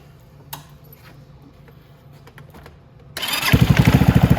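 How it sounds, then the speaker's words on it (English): Venom x22GT 250cc motorcycle starting after a drive belt replacement: quiet shop ambience with a few faint clicks, then the engine catches abruptly and settles into a loud, close, pulsing idle. "Let's start the bike."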